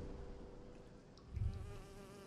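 Wasps or hornets buzzing in the Nightmares from the Deep 3: Davy Jones game, a faint continuous insect drone with a low hum beneath and a brief swell midway.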